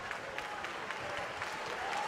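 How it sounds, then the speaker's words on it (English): Steady applause from a boxing crowd after a championship fight, a dense wash of clapping throughout that swells slightly toward the end. "let's have a big round of applause for both of the fighters in this ring"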